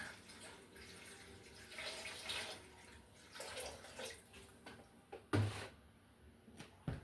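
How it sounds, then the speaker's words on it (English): Water pours and splashes into a corn beer brewing pot in irregular bursts, with a clunk and knocks partway through, fairly quiet and close. "go ahead and get all that water in there."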